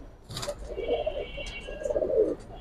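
Red-pied (lal patti) pigeons give two soft, burbling coos close by, one after another in a quiet space, with a faint brief chirp or click between them.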